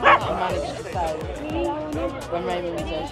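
Dogs bark repeatedly in quick, uneven bursts with yips and a whimper at an outdoor dog festival, close and loud over a crowd's background chatter.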